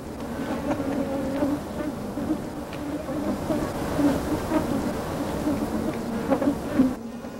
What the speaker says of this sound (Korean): 앉을 수 있는 곳이면 어디든 들러붙는 파리떼.